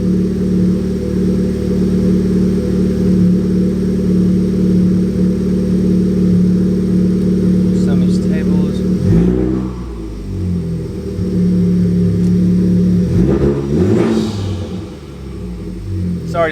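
A Honda Type R with a boost leak idles with a loud, steady rumble, then is revved sharply twice, the engine note climbing and falling back each time, close by.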